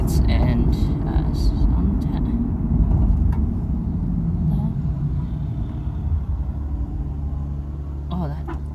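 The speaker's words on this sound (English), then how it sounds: "when that truck passed by, it just sounded like a bunch of like rattle cans" A heavy truck rumbles past with a low, rattling roar while a person talks over it, followed by steady road noise, on a mountain road.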